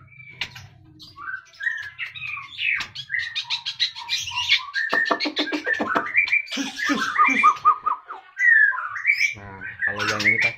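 Magpie robins (murai) sing close and loud in a breeding setup, pouring out varied whistles, rapid chirps and trills continuously, with a faint low hum beneath.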